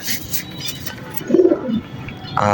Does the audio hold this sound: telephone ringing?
no